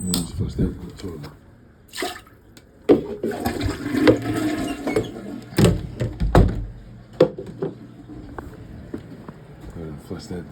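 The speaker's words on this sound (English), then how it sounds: "Go ahead and flush that down the toilet." A household toilet is flushed after frozen krill shrimp are dropped in. Close thumps and clunks come first, then a short watery rush, with a person speaking nearby.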